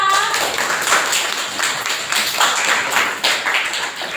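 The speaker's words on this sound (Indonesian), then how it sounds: "Tepuk tangan untuk kelompok 4." Students in a classroom clap for a discussion group during a practice teaching session, a fairly close burst of rhythmic hand claps from a small group that keeps going throughout.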